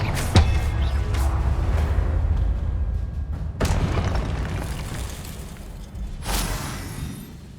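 Confringo spell explosions in the video game Hogwarts Legacy: three loud booming blasts spaced a few seconds apart, each with a sharp burst followed by a rumbling decay.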